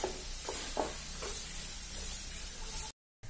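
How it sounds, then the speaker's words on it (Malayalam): Chopped onions sautéing in a pan hiss and sizzle softly, with a few faint scraping stirs breaking the steady crackle before it cuts to silence near the end. "നമുക്കിതൊന്ന് വഴറ്റിയെടുക്കാം."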